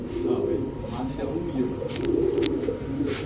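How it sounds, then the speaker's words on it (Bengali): Giribaz high-flyer pigeons coo repeatedly in a low, rolling, steady murmur, close by, with a few faint higher chirps and some background noise throughout. "কি সুন্দর ডাকতেছে এরকম অ্যাক্টিভিটিস কবুতর যদি থাকে তাহলে তো দেখতেই ভালো লাগে"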